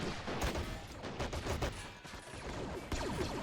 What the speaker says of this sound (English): here lots of gunfire in the distance